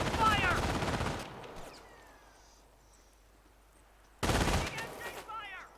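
Bursts of rifle and machine-gun fire crack out in a World War II battle in Company of Heroes, two loud volleys separated by a quieter stretch with a soldier's shout beneath.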